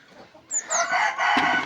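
Chickens cluck and a rooster crows nearby, loud squawking calls after a brief quiet start.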